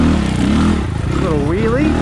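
A 2022 SSR SR300 dirt bike pulling in second gear, its engine droning close and loud with a rising, wavering pitch, a voice speaking over it.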